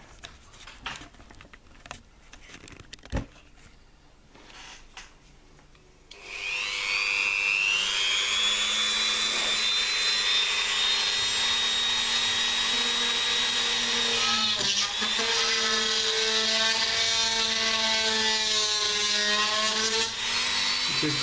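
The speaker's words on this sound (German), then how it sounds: "Dann bohren wir hier ein paar Löcher." A small power drill bores holes, starting abruptly after a few seconds of quiet handling and then whining steadily and loudly at high pitch, with slight shifts in speed as the bit works through the material.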